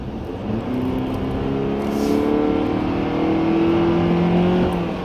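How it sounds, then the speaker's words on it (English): Honda Accord engine pulling at full throttle, a steady, buzzy drone whose pitch climbs gradually as the car accelerates, heard close and alone with no speech. "But let's floor it and you decide."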